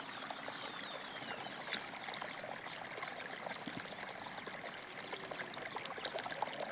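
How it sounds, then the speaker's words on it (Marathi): Water from a solar-powered farm pump pours steadily under an overcast evening sky, a continuous close splashing stream with no talk. "इकडे बघा हे सूर्याकडं, आणि सोलर इतकं पाणी मारते."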